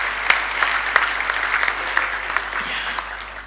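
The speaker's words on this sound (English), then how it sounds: "You can give that a round of applause as well." Audience applause at a university spring graduation ceremony, steady dense clapping from a large crowd throughout, with a few sharper individual claps standing out near the front.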